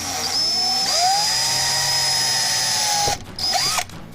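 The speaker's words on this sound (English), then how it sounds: "I'm going to pre-drill my holes just because this wood is so old." A power drill pre-drilling holes in old wood whines at a steady high pitch for about three seconds, then cuts off, followed by a short second burst and spin-down.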